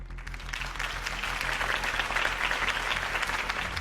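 A crowd applauds after Harvey Dent's campaign speech, a steady wash of clapping at moderate distance with a low hum underneath.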